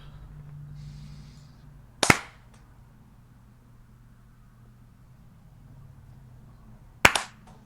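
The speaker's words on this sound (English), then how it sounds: "Why did I even bother clapping?" Two sharp hand claps made to sync recordings before a gaming podcast episode, each a single crisp crack about five seconds apart, close and loud over a faint room hum, with no talking.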